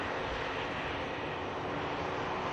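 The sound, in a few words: TUI Boeing 787 Dreamliner airliner at Manchester Airport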